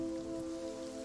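Rain in the horror video game Visage: a steady, even wash of falling rain under soft, sustained music tones, with no talking.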